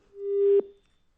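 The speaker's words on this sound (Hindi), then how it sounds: "संपर्क टूट गया, फोन डिस्कनेक्ट हो गया उनसे" A single steady phone line tone sounds after a call drops during a live Hindi news interview, lasting about half a second before cutting off sharply, loud and alone.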